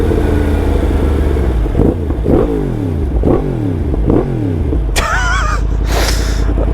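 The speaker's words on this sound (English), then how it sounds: "Those flames, revving it, I'm not even going near the red line and it's popping flames like that." Yamaha MT-10 second-generation motorcycle with an Akrapovic exhaust revs hard three or four times up close, each rising roar falling back, then sharp crackling pops near the end; a person briefly exclaims.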